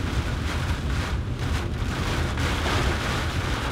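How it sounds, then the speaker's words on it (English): Strong wind buffeting a car while driving, a loud steady roaring rush with gusty surges throughout, no voices. "It's really windy."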